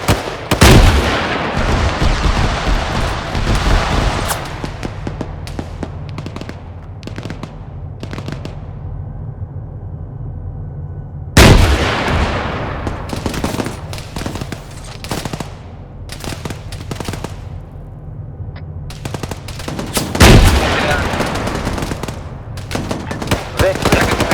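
Heavy gunfire in ArmA 3, with loud close bursts of automatic fire and booming shots breaking out three times over a steady rumble, scattered quieter shots between and faint voices underneath.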